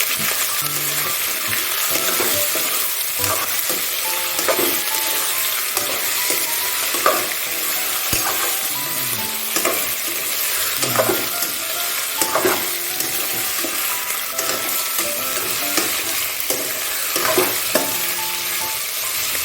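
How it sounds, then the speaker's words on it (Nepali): Chicken pieces fry in a pan for chicken curry, a loud sustained sizzle under repeated scraping and clanking of a spatula stirring at an uneven rhythm throughout, with no talking. "र चिकन हालेर चिकनलाई मजाले पाक्न भुट्ने छु है।"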